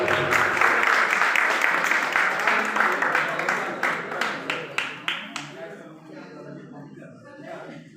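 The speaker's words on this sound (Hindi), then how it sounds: "एक जोरदार तालियां हो जाए हमारी सभा के लिए।" Applause from the audience at a college freshers' farewell gathering for a mass communication class, a full burst of clapping that thins into scattered separate claps and fades away.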